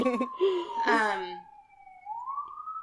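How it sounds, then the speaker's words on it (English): A wailing siren holds a steady tone, then rises, sounding from a distance while a voice talks briefly over its start. "The siren's happening again"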